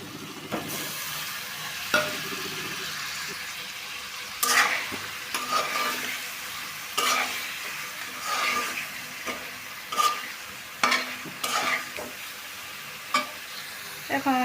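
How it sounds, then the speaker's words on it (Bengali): Taki fish is stirred into a sizzling masala of fried onion, garlic and green chilli. Repeated sharp scraping strokes cut through a constant close frying hiss. "এবার আমি টাকি মাছটা বেজে নেব"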